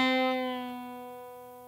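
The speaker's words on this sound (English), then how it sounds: "This means you pick the string while it's already bent and then bring it back down to its normal note." A single plucked guitar note, picked while the string is already bent, rings out, its pitch sliding slightly downward to the normal note as it sustains and slowly fades, with no other sounds around it.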